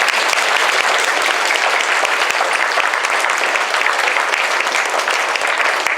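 Parents and guests at an elementary school end-of-year awards ceremony give first and second grade students a round of applause, loud, dense and continuous clapping with scattered sharp claps standing out.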